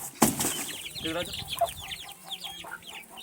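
Chickens and small chicks clucking and peeping close by in a village yard, with a sharp flap or knock near the start and scattered soft chirps throughout; faint voices may be present.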